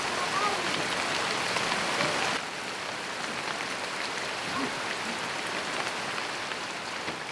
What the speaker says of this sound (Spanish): Un poco que llueve y fijaos, ríos por todas partes, encharcado por todas partes.